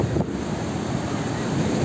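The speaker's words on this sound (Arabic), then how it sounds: "الموج عامل ازاي؟ طلع لحد عندي اهو" Sea waves rush and break continuously on the shore at Sporting, Alexandria, on a rough, high-tide day, a dense close roar with wind buffeting the microphone.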